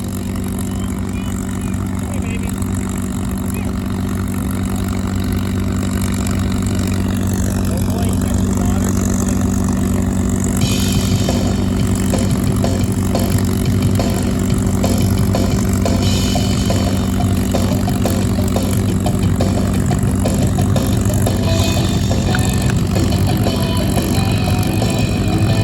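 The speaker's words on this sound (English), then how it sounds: "the KC-135R Stratotanker with those new, bigger engines" KC-135R Stratotanker with its new, bigger engines at an air show, a steady loud jet roar and low engine hum holding throughout with crowd noise mixed in.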